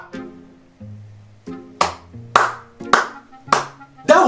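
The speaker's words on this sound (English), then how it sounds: "You have done well, clap for yourself." Hand claps in a home, about six sharp claps spaced roughly half a second apart, with voices talking underneath between them.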